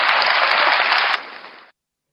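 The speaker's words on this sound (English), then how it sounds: "You clap for that?" Audience applause, a dense, loud burst of many hands clapping together that drops in level and then cuts off abruptly after under two seconds; nobody talks.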